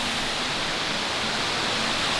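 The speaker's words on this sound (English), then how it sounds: "3-step waterfall." Steady, dense rushing roar of a three-step waterfall with turquoise water in Cherrapunji, Meghalaya, constant and broadband with no breaks and no voices.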